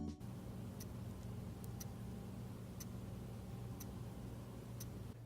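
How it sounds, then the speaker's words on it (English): A cheap wristwatch movement ticks in faint, evenly spaced clicks about once a second, heard close up over a steady low background hum with no voices. "So usually cheap movement has very loud ticking, or it's very noisy."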